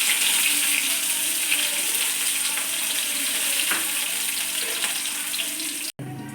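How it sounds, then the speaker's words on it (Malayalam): Mustard seeds sizzle and crackle in hot oil with shallots and curry leaves, a steady loud frying hiss that fills the whole stretch and breaks off briefly near the end, with no talk. "എണ്ണ ഏകദേശം ചൂടാകുമ്പോൾ നമുക്ക് കടുക് ഇടാം."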